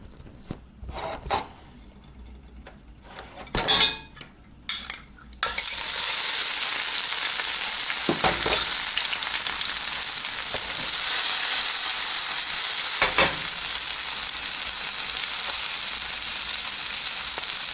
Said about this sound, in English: Now first we're searing this.